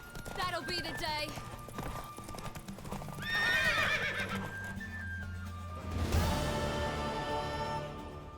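A horse whinnies loudly, hooves clop rhythmically, and voices speak over it in a dramatic scene in The Witcher 3 video game.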